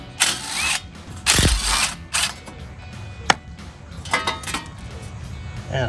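Hand ratchet working 8mm bolts on a Ford F-150 front wheel hub, giving bursts of mechanical clicking and metallic clanks close by, with a sharp knock near the middle and no talking.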